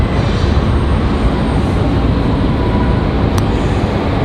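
A sports team charter jet arrives at Raleigh-Durham International, producing a steady, loud, close engine roar that persists throughout with no talking.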